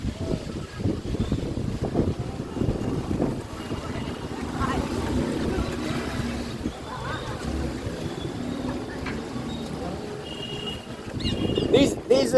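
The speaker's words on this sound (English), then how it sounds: "This wind is something else." Heavy wind buffets the microphone outdoors near an ashram, a dense rumbling roar that runs continuously throughout with some gusty surges, while someone speaks faintly underneath.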